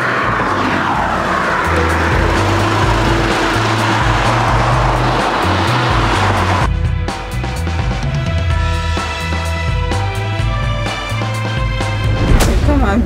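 A wide camper van drives along with a loud, constant road and engine rumble that shifts partway through into busier rattling and mechanical noise, with no talking.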